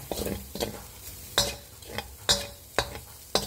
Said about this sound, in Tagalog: At ang ating bawang. So, hayaan muna natin siyang magisa.